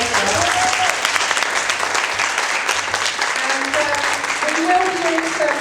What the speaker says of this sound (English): So round of applause to our judges for all the hard work that they've done.